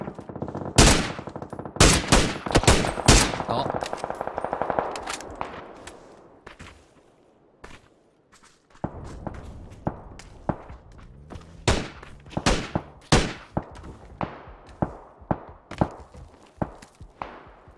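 Gunfire in PUBG, loud rapid bursts and single shots cracking close by, a dense volley early then a quieter gap and a steady run of spaced shots, with footsteps and thuds mixed in.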